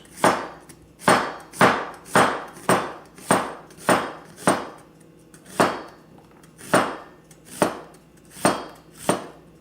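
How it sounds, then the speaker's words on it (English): A knife thinly slicing onion halves on a cutting board, about fifteen crisp, evenly spaced chopping thuds in a steady rhythm, close and clear with no talk. "cut that in half, and then lay it like that, and just thinly"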